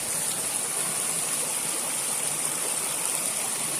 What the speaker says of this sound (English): There's another little creek.